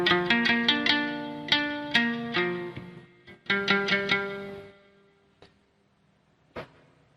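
A Hagaba, a four-string handmade instrument strung with fishing-line strings and tuned sol-do-mi-la-do-mi, is plucked in a quick run of clear ringing notes. A few sparse plucks follow and decay into near silence.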